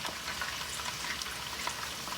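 Steady, dense sizzling of chicken strips frying in hot oil in a fry basket, crackling continuously with no voices.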